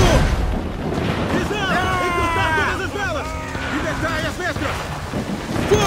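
Booming ship cannon fire in Assassin's Creed Black Flag during a naval battle, with repeated whooshing projectile sounds over shouting voices and crowd noise.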